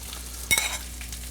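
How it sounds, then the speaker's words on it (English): Olive oil sizzles softly in a pan while heating for black rice, a steady hiss with a brief louder scrape or stir midway, no talking. "We're heating up some olive oil in the pan for the rice"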